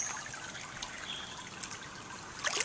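Water in an outdoor swimming pool being stirred and splashed by hand, a steady close trickling and sloshing with a few brighter splashes near the end.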